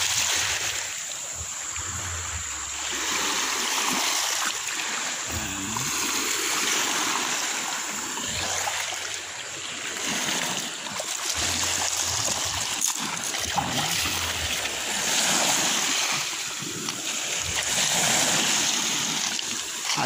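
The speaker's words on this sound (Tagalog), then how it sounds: "Sa tabi ng dagat tayo" Continuous broadband water wash with surging swells, like waves rolling in along a shore, steady and fairly loud with no voices.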